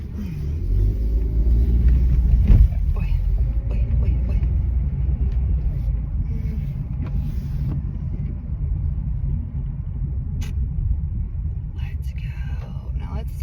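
A small car's engine rumbles steadily at low idle while parallel parking on a rainy street, with a brief surge of revving early on, heard up close from inside the cabin.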